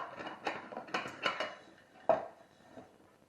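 Small metal bowls from a Terra Hiker camping cookset clink and clatter as they are handled, several sharp nearby knocks in an irregular rhythm, one louder clank near the end, with no talk over them.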